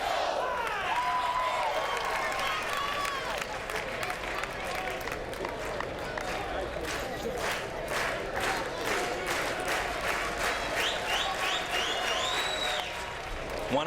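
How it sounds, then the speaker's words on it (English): A college baseball crowd cheers and claps steadily throughout, a dense continuous roar of applause with scattered whistles, filling the whole stretch at even loudness while a voice talks over it. "The crowd's getting into it and bringing the fans back into the game."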